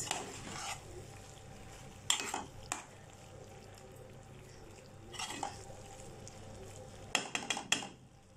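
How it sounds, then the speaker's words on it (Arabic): Pasta being stirred in sauce in a pan: quiet scraping and stirring with intermittent sharp utensil clinks against the pan at irregular moments, over a low background of gentle sizzling, no voices. "اقلبها كده علشان تديها بقى السماكه للصوص اللي هيبقى موجود"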